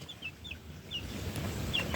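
Three-week-old chicks in a brooder fitted with automatic water cups cluck and peep, with several short high chirps scattered over a soft, shuffling background.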